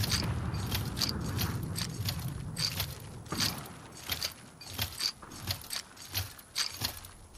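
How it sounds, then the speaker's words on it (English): A wrench repairs a vehicle rotor in the WARDOGS video game, giving steady mechanical ratcheting and metallic clicking that settles into a regular rhythm of ticks and clanks, close and fairly quiet. "Let's repair this thing. This is going to take forever to get this rotor on."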